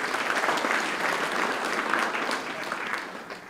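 An audience claps warmly during a school superintendent's speech, a sustained and fairly loud wave of applause from many hands that holds steady, then starts to thin toward the end.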